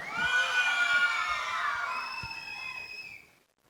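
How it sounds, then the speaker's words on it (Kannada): An audience at a televised dance competition grand finale cheers with high, sustained whoops and shouts, loud at first, then tapering and fading to quiet. "ಅದಕ್ಕೆ ಜೋರಾದ ಚಪ್ಪಾಳೆ।"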